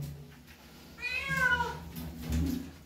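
A cat meows in drawn-out, rising and falling cries while being bathed, one long wail in the middle followed by a shorter complaint, with water and handling noises low beneath.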